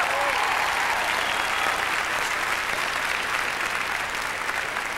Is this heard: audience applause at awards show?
yes